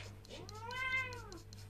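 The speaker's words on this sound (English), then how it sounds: "the dog and the cat goes again" A cat meows once in a long, rising then falling wail, close and clear over a steady low hum, with no talk.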